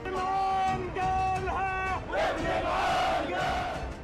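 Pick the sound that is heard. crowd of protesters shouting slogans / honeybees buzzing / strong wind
crowd of protesters shouting slogans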